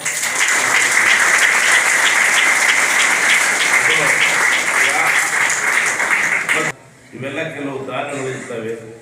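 Sustained applause from an audience at a student union inauguration event, dense and steady for several seconds before cutting off abruptly, followed by a person speaking.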